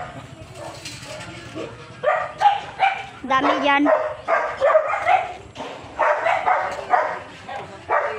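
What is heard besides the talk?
dog barking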